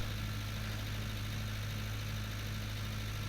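Old Ford tractor engine in Farming Simulator 19 labouring at a steady low drone with a constant heavy hum, alone and unchanging throughout.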